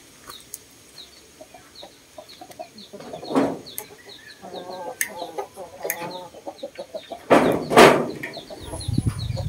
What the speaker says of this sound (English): Look at them, guys, the chicken.